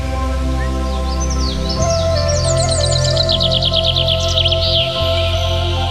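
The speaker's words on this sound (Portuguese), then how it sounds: "vou deixar o canto dos pássaros para celebrar a sua chegada" Birds sing in a lively, continuous chorus of warbling trills and chirps, fairly close and clear, over a steady low hum throughout, with no talking.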